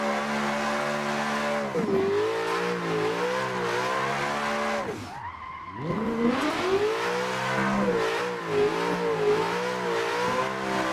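Drift car in Assetto Corsa, driven with a Fanatec ClubSport RS steering wheel, revving hard with a wavering engine pitch through a long slide, punctuated by tire squeal and a brief lift-off dip midway, loud and continuous with no talk.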